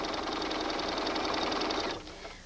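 A sewing machine runs a quarter-inch seam along a quilt, whirring in a steady rapid rattle for about two seconds before stopping abruptly, with quiet room tone after.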